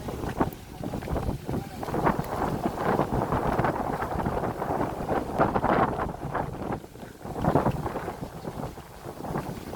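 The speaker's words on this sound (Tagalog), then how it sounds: "Malakas yung hangin." Steady gusting wind over Manila Bay roars across the microphone with rushing, broadband noise throughout, along with water and boat sounds.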